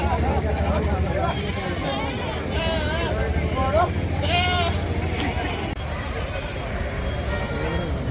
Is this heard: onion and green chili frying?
no